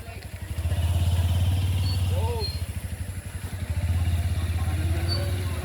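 A motorcycle engine runs close by with a steady low throbbing pulse that rises and eases in waves, and people talk faintly in the background.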